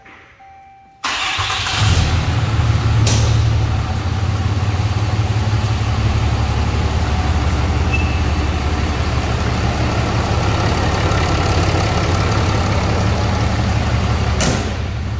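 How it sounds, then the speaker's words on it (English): A 2011 Ram 3500 Crew Cab pickup truck engine cranks and catches after a brief quiet moment, then settles into a loud, steady idle rumble that continues throughout. "we're also just going to start the truck up here for you so you can hear it run"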